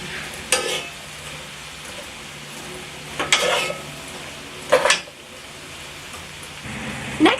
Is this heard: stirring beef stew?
yes